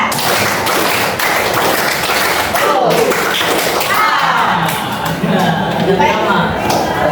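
Classroom group clapping in a counted pattern during a school career-guidance session, repeated claps and thuds mixed with chatter and voices throughout.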